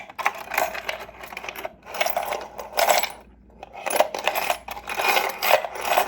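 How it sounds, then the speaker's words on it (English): Rusty metal keys jingle and clink together in repeated bursts, close and crisp, with brief pauses between shakes. "Key ASMR"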